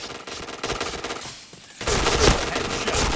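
Rapid automatic gunfire from a shooter video game, loud and dense bursts with a brief lull before the firing resumes.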